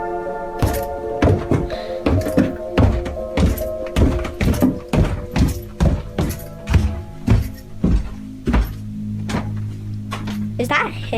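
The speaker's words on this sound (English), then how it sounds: "that's his loud feet. He's stomping." Heavy stomping footsteps from another room, a rapid run of loud thumps and thuds with tonal background music underneath, ending in a few sharper knocks.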